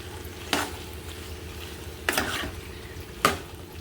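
Onion and green chilli pieces dropped into a pan of frying broad beans, with three separate sharp sizzling bursts over a low steady background, no talk.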